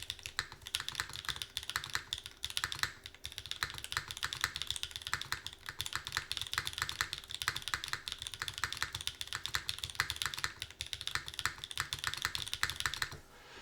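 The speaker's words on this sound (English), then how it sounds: "How does the classic TKL sound? I mean, I can sort of do a little typing test for you guys" Fast, continuous clacking of keys on a custom Gwŷdd65 mechanical keyboard during a typing test, dense and close with no pauses or speech.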